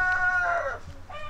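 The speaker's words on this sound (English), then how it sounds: "there's my chicken Goldie." Clucking from a backyard chicken that has just hopped off a perch, a few close tonal calls over steady low background hum.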